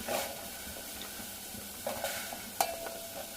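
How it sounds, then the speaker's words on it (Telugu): Raw drumsticks and beans tipped into a pan for a curry, with a soft steady sizzle, light stirring and a couple of sharp clinks of the utensil against the pan, fairly quiet and close. "ముందు మునక్కాడ వేసేసుకుందాము, బీన్స్ వేసేసుకుందాము"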